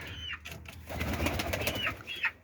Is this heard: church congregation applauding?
no